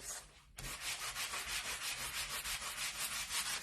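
Sponge sander rubbed by hand along the painted edges of a wooden holiday sign, a rapid back-and-forth scratchy swishing in steady strokes after a brief quiet start, close and moderately loud with no talking.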